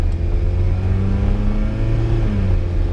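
A 1970s Volkswagen Golf I accelerates at full throttle, its engine droning loud and close with a steadily rising pitch, nothing else audible over it.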